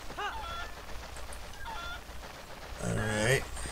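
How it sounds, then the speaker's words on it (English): Cucco chickens in the video game The Legend of Zelda: Twilight Princess, giving loud squawking, honking clucks in a short burst near the start and again near the end over steady background game noise. "Pick up the chicken, Link."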